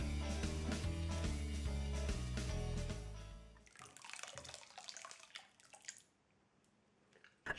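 Yeast and warm-water corn mash for moonshine is poured into a stock pot, giving faint liquid splashing and sloshing after a short stretch of steady tonal background.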